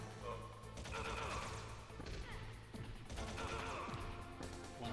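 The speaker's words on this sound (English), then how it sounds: "And they throw grenades." Grenade blasts and bursts of gunfire from a prison battle in the Metal Gear Solid video game, a dense rapid clatter of shots and crashes running throughout, fairly loud and continuous.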